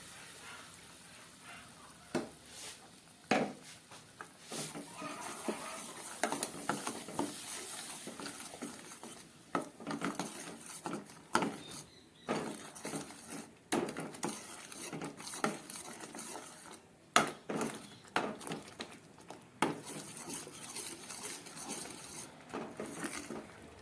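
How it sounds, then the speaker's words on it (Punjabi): Repeated scraping and clinking of a utensil stirring and roasting a spice paste in a pan, irregular strokes with a faint sizzle underneath. "ਪੇਸਟ ਨੂੰ ਆਪਾਂ ਚੰਗੀ ਤਰ੍ਹਾਂ ਭੁੰਨਾਂਗੇ"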